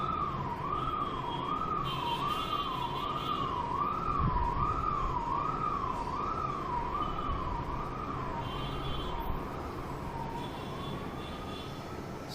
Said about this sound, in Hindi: एम्बुलेंस का बैकग्राउंड म्यूजिक